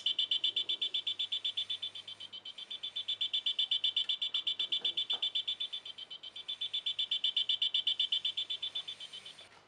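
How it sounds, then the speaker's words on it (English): Continuous high-pitched buzzer tone from an infrared proximity sensor reacting to a remote control, pulsing rapidly and swelling louder and softer as the remote moves nearer and farther. "when you point your remote control at the sensor, you can hear the buzzer"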